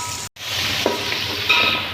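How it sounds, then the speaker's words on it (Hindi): Steady, close sizzling of onions frying in a hot pan for keema macaroni, with a brief cut and a few soft stirring clinks. "प्याज फ्राई कर लेंगे"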